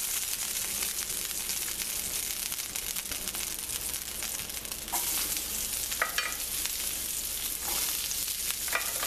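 Vegetables sweat in a pan alongside beef short ribs, giving a continuous busy sizzle and frying hiss with repeated stirring scrapes and crinkles throughout, with no talking.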